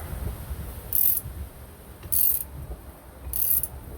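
A threaded cone part being unscrewed from a jet pump during a rebuild, with three evenly spaced bursts of dry metallic ratcheting and scraping against a quiet background.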